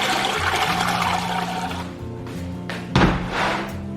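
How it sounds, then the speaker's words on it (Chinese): Well water is poured and splashed over salted pickling melons as they are rinsed, a steady running gush broken by a sharp splash and a dull thud near the end. "我们要先用清水给它再清洗一遍"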